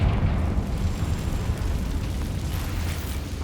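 A Confringo blasting spell erupts in Hogwarts Legacy, a loud, dense roaring explosion that fills the whole moment with a broad rumbling burst, sustained and close.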